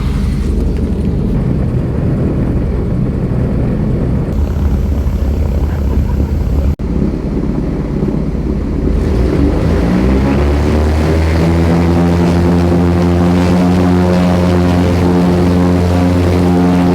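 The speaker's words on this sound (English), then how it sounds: "taxiing out for the next leg, about a 20-minute hop now, back down to Kirkwall" Small propeller airplane taxiing out toward Kirkwall, heard from inside the cabin as a loud steady engine drone whose pitch climbs and settles into a strong humming tone as the propeller spins up.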